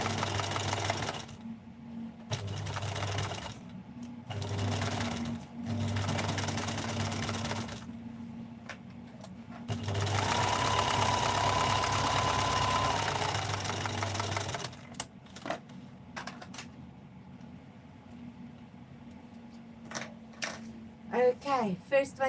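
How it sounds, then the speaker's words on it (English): Sewing machine stitching fabric pieces in a series of close, loud motor-driven bursts, several short runs then one long run, separated by pauses with small clicks and handling noises; a voice speaks briefly. "So now I can just sit and sew,"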